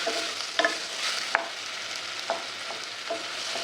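Chopped tomatoes frying in a pan for potato rice, a steady soft sizzle broken by a few brief scraping knocks of a stirring spoon, with no talking.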